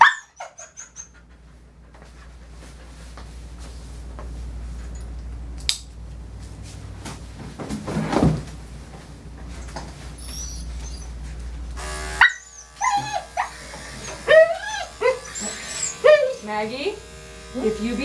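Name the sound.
Portuguese Water Dog barking during grooming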